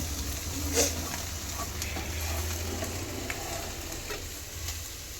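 Potato fry sizzles in a pan while being stirred, a steady close crackle with occasional scraping strokes and no voices.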